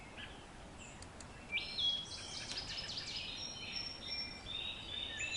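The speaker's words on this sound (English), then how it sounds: "So we're going to listen to the wood thrush here" Clear, flute-like phrases of a wood thrush singing at a distance on a wooded trail, repeated at intervals over a soft outdoor hush.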